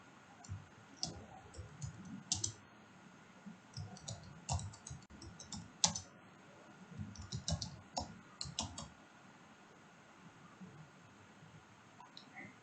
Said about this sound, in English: Here I am going to type the same thing that we have been typing, HTML5.